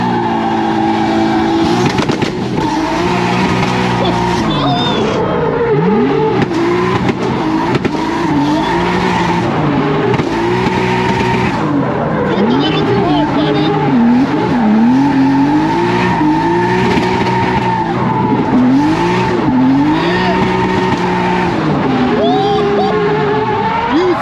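A drift car driven hard, its engine revving up and down in repeated sweeps while tires squeal through slides, loud and continuous for over twenty seconds, with occasional voices in the cabin.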